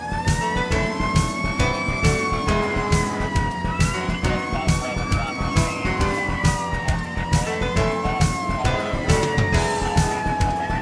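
An aerial ladder fire truck's siren wails loud and steady with rhythmic pulsing over a running engine, sustained throughout with no talk.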